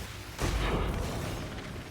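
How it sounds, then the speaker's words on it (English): An explosion in the video game Path of Exile 2 gives a sudden loud boom that swells and rolls off into a long rumbling tail, standing alone without talk. "Oh my god, the explosion sound is so loud."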